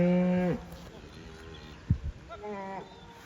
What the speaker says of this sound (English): today is the day, don't know if you can see that, the cows are going out.